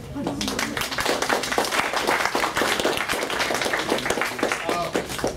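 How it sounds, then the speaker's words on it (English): Applause for a group of speakers at an event for international students, a patter of clapping heard under someone talking over it, moderately quiet and steady throughout. "we'll give them all another round of applause for doing such a great job"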